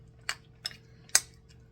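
A spoon stirring a snack dip in a bowl, producing three distinct light clinks spaced a fraction of a second apart, close and fairly quiet against a low background hum.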